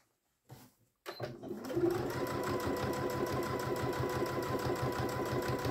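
A sewing machine stitches hems on the front pockets of trousers, starting after a short pause and running at a steady, fast, even rhythm, close and clear with no talking.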